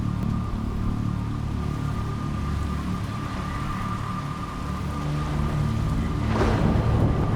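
Rain pours steadily over choppy water during a thunderstorm in the video game Jenny LeClue, with low rumbling underneath and a rolling burst of thunder near the end.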